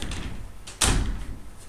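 A door being shut indoors: a single dull thud partway through, moderately close and fairly quiet, with faint rustling around it.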